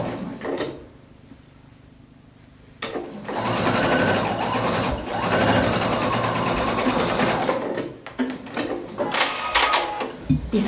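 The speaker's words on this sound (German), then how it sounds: "Und dann nähe ich auch in der Naht ran." A sewing machine stitches a seam through slippery fabric for a women's tunic blouse, running in loud, close, steady bursts with brief pauses between runs and a voice talking at times.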